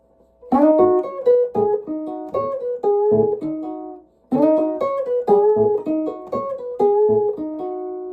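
Electric blues guitar in an early Chicago style, picking a repeating riff of plucked notes over a steady thumping low A bass string, played alone and up close with a brief pause midway before the pattern resumes.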